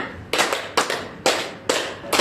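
Students in a school counseling class clap in unison, a rhythmic sequence of about five crisp group claps with brief gaps, loud and close with no voices over them.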